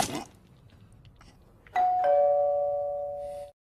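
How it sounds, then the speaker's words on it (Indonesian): A doorbell rings outside a room in a film scene, two clear electronic ding-dong tones that follow a short rustle and ring on with a sustained, fading tail. "Setelah kejadian itu terdengar bel dari luar kamar"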